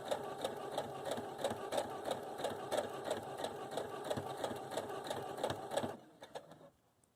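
A sewing machine runs steadily while stitching a fabric scrunchie with a half-inch seam allowance, its fast mechanical chatter going for about six seconds and then stopping, leaving a few faint clicks.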